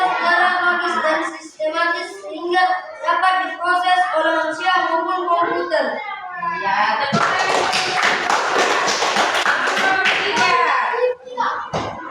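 A group of children claps hands in a rhythmic chant-like pattern in a classroom, steady bursts of claps and voices that turn into a dense, loud wash of clapping in the second half.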